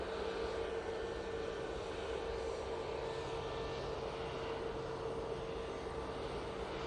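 An Aer Lingus airliner goes around on a missed approach at Manchester Airport, its engines making a constant, fairly distant roar with a faint tonal whine over it, no voices.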